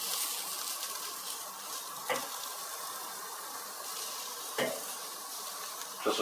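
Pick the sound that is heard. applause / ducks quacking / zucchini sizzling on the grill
zucchini sizzling on the grill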